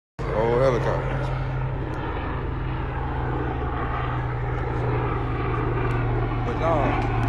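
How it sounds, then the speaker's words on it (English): Helicopters flying overhead, a steady loud droning rotor and engine roar that holds unbroken for several seconds, with a voice talking faintly beneath it. "Oh, helicopters."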